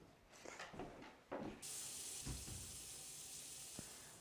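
A kitchen tap turns on partway through and runs as a steady, close rushing hiss of water while hands are washed beneath it, with a few soft knocks and clatters before it starts.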